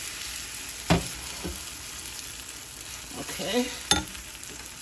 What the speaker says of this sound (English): Melting the butter first. And putting half the pancake mix down